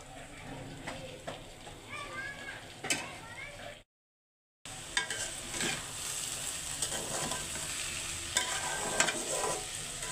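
Potatoes fry in a pan with raw and ripe tomatoes and green chilies, a steady sizzle with scraping stirs and clinks, broken by a brief silent gap, while a voice talks faintly nearby.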